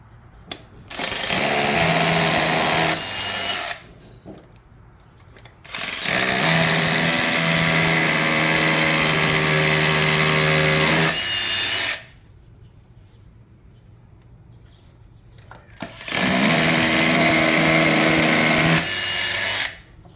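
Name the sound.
power drill driving Tapcon concrete screws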